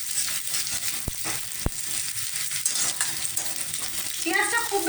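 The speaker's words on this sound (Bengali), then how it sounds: "এবার পেঁয়াজ কাঁচা লঙ্কা একটু ভেজে নিচ্ছি" Chopped onion and green chillies sizzle steadily in hot oil in a pan, a close, continuous crackle broken by a couple of sharp spoon taps against the pan as they are stirred.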